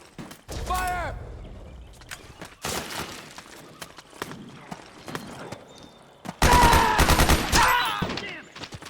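Gunfire rings out in the stealth-action game Metal Gear Solid 4: Guns of the Patriots: a short burst of shots, scattered single reports, then a loud, sustained volley near the end, with faint voices in between.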